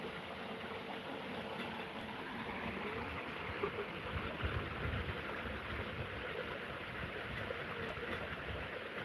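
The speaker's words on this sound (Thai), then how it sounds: "ฟังเสียงน้ำตก" A waterfall flowing at a craft site in rural Thailand, giving a steady, broad rushing wash of water that holds an even level from start to finish with no voices over it.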